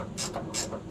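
A wrench ratchets on a nut while it is removed from the bed of a Suzuki Carry kei truck, giving three short clicking bursts close by with no talk.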